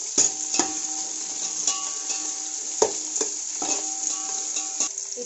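Onions sizzling in hot oil in a pan for chicken dum biryani, a steady hiss broken by repeated scraping stirs of a spoon against the pan, close and clear with no talk.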